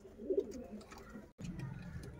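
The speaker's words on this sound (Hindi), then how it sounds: "सियालकोटी छत वाले कबूतर" Sialkoti roof pigeons coo softly at close range in a short, low burst, followed by rustling and a few more quiet coos.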